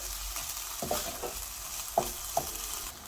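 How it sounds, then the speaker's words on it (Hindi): A spoon mixes chopped jalapeños, black olives and other pizza-burger filling ingredients in a bowl, giving soft, quiet scraping strokes with a few light clicks over a steady background hiss and no talk. "अच्छी तरह से मिक्स कर लेंगे हम सब चीज़ों को"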